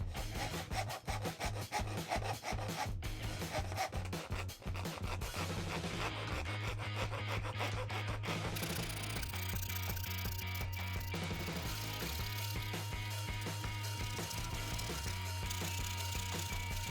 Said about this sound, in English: it's now to use the fret saw to cut it all out